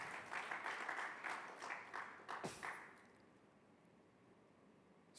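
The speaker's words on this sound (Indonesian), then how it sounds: "tepuk tangan" A congregation at a Sunday worship service claps in rhythmic, pulsing bursts for a few seconds before the applause stops abruptly, leaving quiet room tone.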